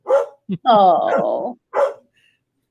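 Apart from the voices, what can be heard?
dog barking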